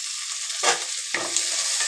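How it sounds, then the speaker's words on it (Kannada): Tomatoes drop into a hot frying pan of sautéed onions, setting off two sharp bursts of sizzling over a steady frying hiss, close and fairly loud with no talking. "ಇವಾಗ ಟಮಾಟರ್ ಹಾಕ್ತೀನಿ"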